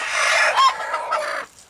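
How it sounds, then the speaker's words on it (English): Several roosters crow and cluck nearby in a loud, overlapping burst of harsh calls that cuts off after about a second and a half. "Mercy, the roosters."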